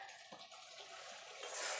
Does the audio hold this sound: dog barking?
no